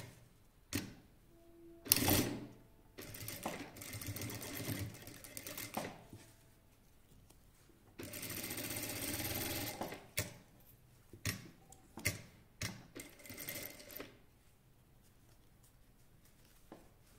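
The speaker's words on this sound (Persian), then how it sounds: "خب حالا از این آخر کار شروع میکنم به ردیف دوم دوخت" Sewing machine running the second row of stitches on women's lingerie, a fantasy bra-and-panty set, in short rattling bursts split by pauses, with one longer steady run in the middle.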